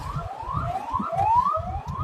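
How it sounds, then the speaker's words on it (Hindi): A police PCR van's wailing siren sweeps up repeatedly as it passes on a Punjab road, heard over the low rumble of a car's engine. "पीसीआर जा रही है"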